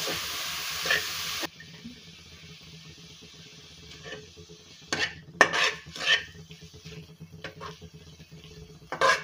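Crumbled paneer is stirred in a pan with a metal spoon, giving soft scraping and a few clustered clinks of utensil on the pan over a faint background hiss.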